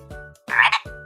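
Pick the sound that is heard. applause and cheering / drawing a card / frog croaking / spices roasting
frog croaking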